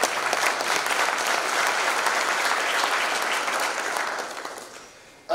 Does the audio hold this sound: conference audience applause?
yes